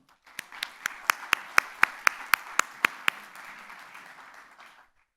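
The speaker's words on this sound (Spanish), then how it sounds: "un gran aplauso para Juan Pablo Larraín" A small audience at a pension debate claps about a dozen distinct, evenly spaced loud claps, then softer scattered clapping that fades out over a couple of seconds.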